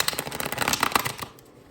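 A deck of tarot cards shuffled by hand in a quick riffle, a dense burst of crisp flutters and clicks lasting about a second before trailing off into quiet.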